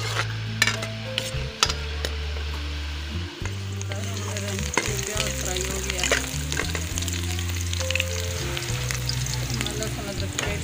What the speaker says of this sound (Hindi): ऑयल हमारा गरम हो गया। मैं अब इसमें प्याज शामिल करूँगी।